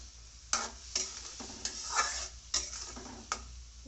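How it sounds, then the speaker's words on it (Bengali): Steady sizzling of fish frying with spices in a pan, punctuated by several sharp scrapes and clinks of a utensil stirring, fairly quiet and close. "মশলা যখন কষাচ্ছি তখনই তরকারিতে মাছটা দিয়ে দিলাম"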